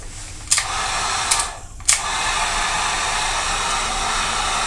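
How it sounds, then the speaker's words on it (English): Heat gun blowing steadily on a soy wax candle jar, a loud, close whooshing hiss that holds nearly unbroken for several seconds, with a few brief clicks or knocks early on. "So all I do is I take the heat gun"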